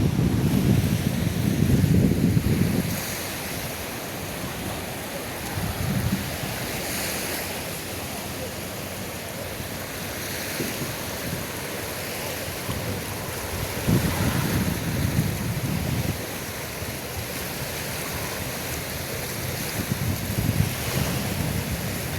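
Ocean waves wash onto a beach as the tide comes in, with gusty wind buffeting the microphone in a loud, rough rush that swells and eases in slow surges.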